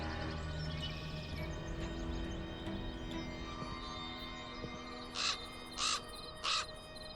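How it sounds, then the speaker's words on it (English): A raven in the Black Mirror II video game gives three loud, harsh caws, evenly spaced near the end, over a low ambient game backdrop. "The raven flew out of a crack in the rock."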